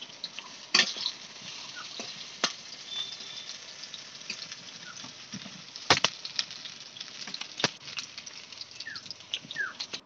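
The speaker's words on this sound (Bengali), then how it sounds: "আর একটু উল্টে পাল্টে আমি সুন্দর করে ভেজে নেব।" Soybean and pea pakoras frying in oil, a soft continuous sizzle broken by occasional clicks and scrapes of a utensil turning them in the pan.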